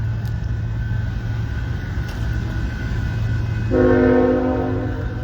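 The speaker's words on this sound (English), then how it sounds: "This is eastbound intermodal coming." An eastbound intermodal freight train rumbles steadily close by, and near the end a loud horn blast sounds over the rolling noise.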